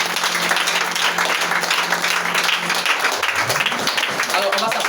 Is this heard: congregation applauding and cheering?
yes